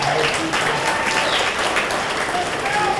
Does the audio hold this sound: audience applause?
yes